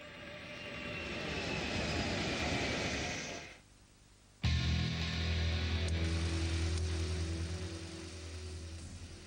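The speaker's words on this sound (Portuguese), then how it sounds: "do rebento da Guerra Fria de Kelly Johnson, o avião espião U-2." A Lockheed U-2 spy plane's engine roars with a steady, loud broadband rush that drops away briefly before surging back with a deep, sustained drone.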